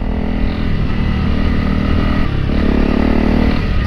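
A Honda CRF300L Rally motorcycle engine drones loudly and close while riding, holding a steady low rumble with a brief dip in revs before picking up again.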